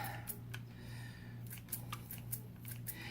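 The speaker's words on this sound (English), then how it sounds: "And my cilantro leaves here are all getting minced up." Kitchen scissors mincing cilantro leaves, a series of quick crisp snips in irregular bursts close to the mic over a low steady hum.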